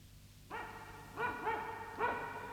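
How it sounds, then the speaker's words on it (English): A cartoon dog in the 1969 animated series Mary, Mungo and Midge barks in short harmonic bursts, three or four yelps spaced about half a second apart, fairly close and clear with no talk over them. "Midge could hear barking."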